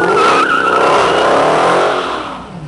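A 707-horsepower Dodge Hellcat launches at a muscle car event. The tires squeal loudly and continuously over the roaring engine, close by, and the sound fades slightly at the end.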